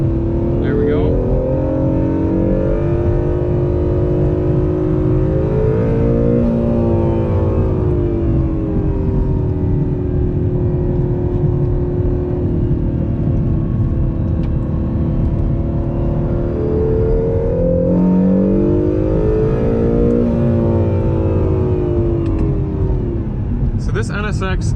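An Acura NSX on Continental tyres at Gingerman Raceway drives hard under steady engine drone, rising and falling through shifts as it accelerates. Someone talks over it almost the whole time.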